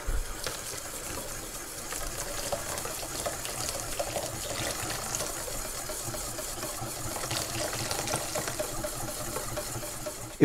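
Liquid rum being poured into crêpe batter in a kitchen, a steady trickling and splashing that continues for about ten seconds at moderate level, with no one talking.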